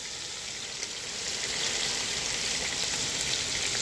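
Butter melting in a hot pan for beef bourguignon, a steady close frying hiss that swells after the first second and holds evenly.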